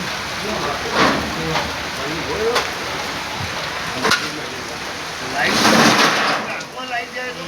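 Heavy rain and a thunderstorm in Martoli, a continuous wash of rainfall with a few sharp cracks and a louder gust-like swell near the end, while people talk over it.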